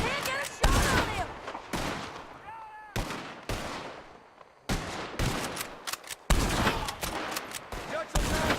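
Gunfire rings out in a shootout against the O'Driscoll gang in Red Dead Redemption 2, with repeated loud bursts of shots separated by short pauses, and a voice talking in between.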